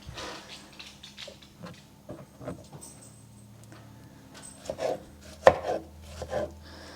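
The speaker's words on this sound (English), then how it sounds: "So all you do to cut them up, I just rough chop them." A knife rough-chops tomatoes on a cutting board in a home kitchen, a series of soft, uneven taps building to a few sharper, louder knocks near the end, close by.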